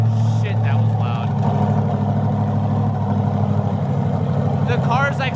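A loud car engine starting for the first time, fitted with turbos, roars steadily and close for the whole span while people talk over it.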